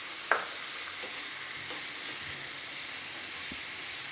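Chicken sizzles in a hot pan while being mixed with salt and black pepper, a steady broad frying hiss with a sharp scrape near the start and faint stirring knocks throughout.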